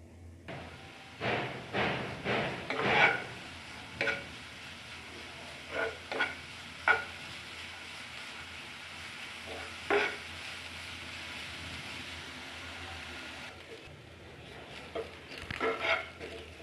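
Chopped green chillies fry in ghee with a low background sizzle, broken by scattered scraping knocks from a spoon stirring the pan, some in quick clusters, all fairly close and with no speech.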